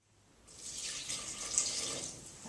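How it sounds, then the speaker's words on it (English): Hot water poured into vegan vanilla muffin batter, a soft splashing, trickling stream that builds quickly and runs steadily for about two seconds, fairly faint and close, with no voices. "a cup of hot water."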